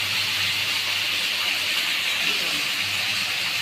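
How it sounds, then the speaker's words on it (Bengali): Chilli chicken with green chillies and a little sugar sizzles in a pan, a steady, even frying hiss that carries on unbroken, with no talking. "দেখুন এটা ভাজা হচ্ছে"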